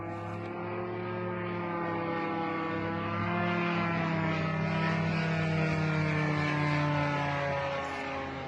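A Russian military drone flies overhead with a steady, droning propeller hum, fairly loud and continuous throughout, with no talk.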